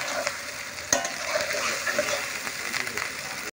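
Mutton curry masala with tomato and capsicum fries in a pan, giving a steady close sizzle with soft stirring scrapes and one sharp clink near the start.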